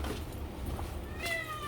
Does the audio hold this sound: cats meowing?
yes